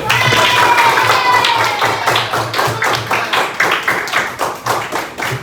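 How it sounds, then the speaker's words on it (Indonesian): Applause in a classroom coding lesson, a few people clapping in a quick, fairly regular rhythm, close and loud, with a voice speaking over the start. "kita berikan dulu aplaus untuk robotku Stefano"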